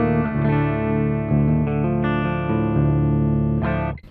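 Electric guitar played through a dual rectifier amp simulation in the STL Tones AmpHub plugin, heavy and distorted, with sustained chords and several chord changes ringing loud and close for about four seconds.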